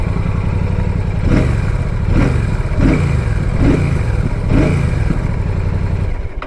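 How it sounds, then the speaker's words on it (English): Royal Enfield Classic 650 motorcycle idling close by with a deep, bassy exhaust note, blipped in a steady series of about five throttle revs that rise and fall evenly, no talking. "So let's hear the exhaust sound."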